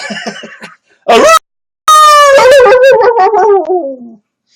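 A person imitates a dog's howl: a few short yelps, a sharp bark-like cry, then a long wavering howl that trails off.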